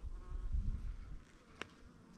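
Honeybees in good health hum around an open hive frame of capped brood, a close, low droning buzz that swells and fades, with a brief sharp click near the end.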